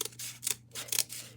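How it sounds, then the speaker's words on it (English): Scissors snipping through material, three quick crisp cuts in a row, close and quiet over a faint steady hum. "I am gonna trim a little of this."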